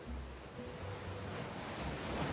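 Gentle waves wash onto the shore at Tel Aviv beach in the evening, a soft, continuous surf hiss with light wind, fairly faint and steady, no voices.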